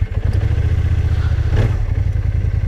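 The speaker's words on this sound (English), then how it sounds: "There's this exhaust note which I really love. It's very deep, very throaty" A KYMCO AK550 maxi-scooter engine cranks and fires up into a deep, throaty exhaust rumble that holds steady at a low idle, close and loud.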